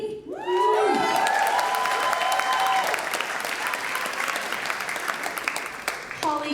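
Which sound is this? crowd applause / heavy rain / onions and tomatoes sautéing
crowd applause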